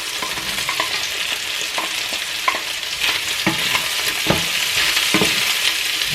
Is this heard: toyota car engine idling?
no